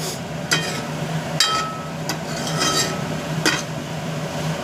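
A spatula stirs beans sabji in a pan with grated coconut, giving several distinct metallic scrapes and clinks at irregular intervals over a soft sizzle, close and moderately loud.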